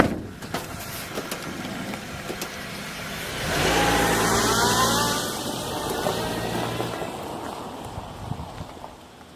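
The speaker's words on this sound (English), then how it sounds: "let me get this car out of the way" A car engine starts and revs as the car is moved. It swells to a louder mid-range roar partway through and then settles back into a steady idle-like rumble.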